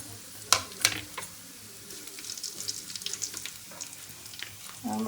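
Curry leaves crackle in hot oil with mustard seeds and cumin, a close, busy sizzle with a few sharp pops and a light scrape of stirring.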